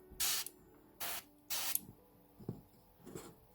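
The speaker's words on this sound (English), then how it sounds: "We'll just spray them from the top down" Several short bursts of aerosol spray paint aimed top down at a Shoretrooper miniature, three loud hissing blasts, then fainter clicks and small handling knocks, with no talking.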